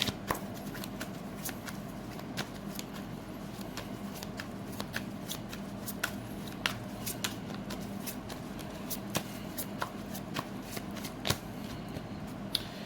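Tarot cards shuffled steadily for several seconds, a continuous papery riffle with many sharp card snaps, close and fairly quiet with no talking.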